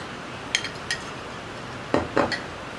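A spoon stirs curd into cucumber kichadi in a bowl, giving a handful of light metallic clinks: two quick taps, a pause, then a cluster of three close clinks over a faint background hiss.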